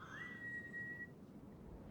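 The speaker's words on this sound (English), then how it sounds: "Gavin raises his head and whistles." A man gives one clear whistle to call his horse: a short rising note that holds steady for about a second and then stops, quiet against a soft low background.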